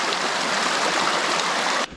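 A clear mountain stream on a backcountry hiking trail flows with a loud, close, continuous rushing hiss that cuts off abruptly near the end.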